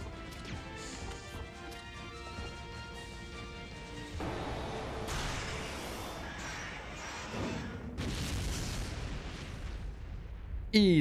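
Grenade launched and bursting in Resident Evil Code: Veronica, a dense roar of blasts and crashing debris layered over game music, with a louder surge near the end.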